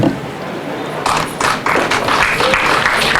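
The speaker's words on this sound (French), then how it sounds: "Je vous demande d'applaudir très fort." A crowd claps at a public announcement about road paving in a town, beginning sparse and swelling after a second into loud, close, fairly dense applause with some thumps mixed in.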